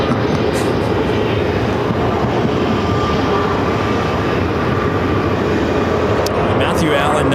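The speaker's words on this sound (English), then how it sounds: "ATC, just give us one takeoff here on runway 8." Jet taking off from runway 8 at Phoenix airport, a sustained loud engine roar with a steady drone and no pauses, with some talking mixed in beneath the rumble.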